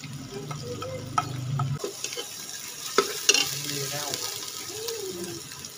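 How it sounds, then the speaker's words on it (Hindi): Masala with kachalu and ground tomato fries in a pan, seasoned with red chili, salt and black pepper. A steady sizzle runs under scraping stirs of a spoon, with a few clatters, close by. "मसाले को अच्छी तरीके से कचालू के साथ भून लूँगी"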